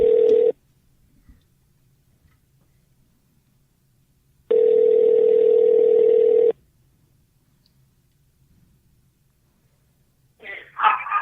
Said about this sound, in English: so I'm going to give him a ring-a-ding-ding